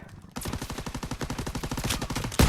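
Rapid automatic gunfire from the Call of Duty WW2 video game bursts in after a short quiet start, a dense evenly spaced rattle of close shots ending in a louder heavy blast.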